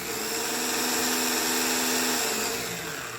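Small electric motor of a Fly slot car running after its gears were cleaned and oiled, a steady high-pitched whine with a close, even buzz that fades slightly at the end.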